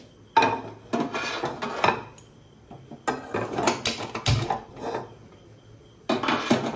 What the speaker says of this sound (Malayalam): പൊരിക്കാനായിട്ട് ഞാൻ ഒരു പാൻ അടുപ്പത്ത് വെക്കണ്ടേ